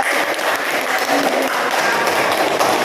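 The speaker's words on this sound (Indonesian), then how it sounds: "Beri tepuk tangan yang meriah" Classroom applause for a student in a math lesson, a loud dense burst of clapping sustained evenly for about three seconds.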